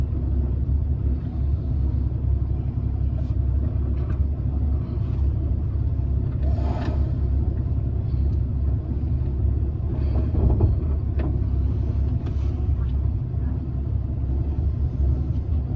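A 1963 Plymouth Valiant V200 in need of shocks rumbles steadily over bumps in the road, a continuous low drone from inside the car with a few faint knocks and rattles.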